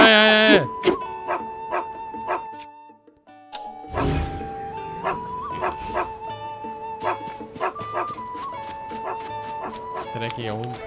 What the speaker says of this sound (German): Dreckiger Hund